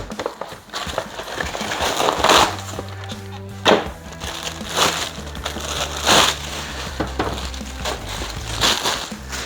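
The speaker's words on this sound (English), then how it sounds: "we are going to get this seat out of the packaging." A bicycle seat is pulled from its packaging in a series of loud crinkling, crushing bursts of wrapping that come every second or two over a soft, steady musical background.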